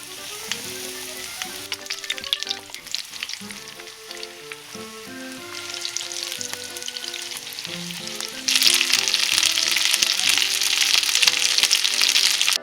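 Steady, loud sizzling of thick pork cutlets deep-frying in hot oil, crackling throughout and growing louder and brighter toward the end, with no talking.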